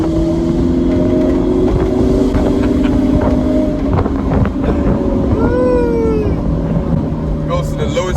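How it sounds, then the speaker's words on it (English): BMW 1 Series E88 convertible accelerating hard on automatic kick-down, heard from inside the cabin: the engine note climbs steadily under heavy wind rush, with a thin whistle rising near the end. "Kick fast is basically you kick the accelerator very quickly, like this, and it goes down to a gear."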